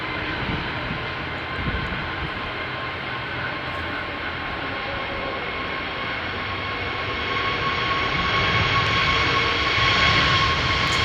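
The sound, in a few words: aircraft taking off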